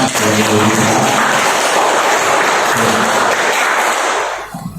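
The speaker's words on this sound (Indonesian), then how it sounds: "kami mohonkan dulu tepuk tangan dari Ibu Bapak semua" Sustained applause from an audience of parents and attendees at a school teacher-training presentation, a dense, steady clapping that fills the room throughout before thinning out at the very end.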